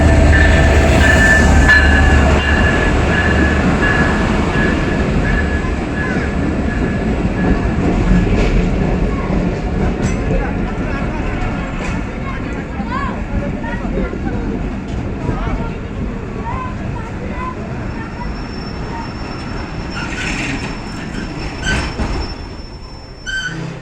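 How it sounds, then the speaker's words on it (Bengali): The Banglabandha Express passenger train rolls past close by, a loud rumbling rush with rhythmic clickety-clack of wheels and brief squealing tones, gradually easing in level, with a voice talking over it. "দেখতে পাচ্ছেন 66-12 লোক নিয়ে বাংলাবান্ধা এক্সপ্রেস চিরবন্দর"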